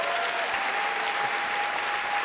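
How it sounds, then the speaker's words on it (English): A crowd at a live League of Legends anniversary event in Europe claps steadily, a dense, even wash of applause with no breaks. "can we have a big round of applause for Brian, please, for joining us on stage?"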